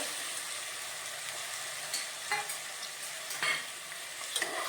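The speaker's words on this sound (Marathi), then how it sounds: "हे सर्व आपण तेलामध्ये परतून घेऊ दोन मिनिटासाठी" Potatoes, cauliflower, tomatoes and capsicum are sautéed in oil for pav bhaji, giving a soft continuous sizzle broken by a few sharper spoon-stirring scrapes and clinks. The sound is close but fairly quiet, with no talk.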